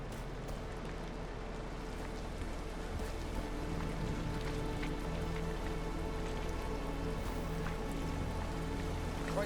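Rain falls steadily in a video game setting, a soft continuous patter over a low constant hum, quiet and unchanging throughout with no speech.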